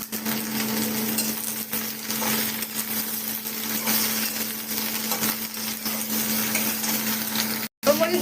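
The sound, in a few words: frying onion and vegetables in a pan for curry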